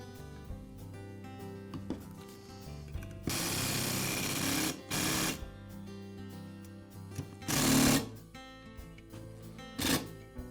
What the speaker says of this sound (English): And for these 2, I'll use the impact driver.